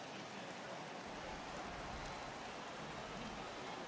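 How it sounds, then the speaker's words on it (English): Heavy rain falling in the baseball video game MLB The Show 18, a dense, loud, continuous hiss of downpour filling the whole clip with no voices. "This has got to be the hardest rain we've seen all afternoon."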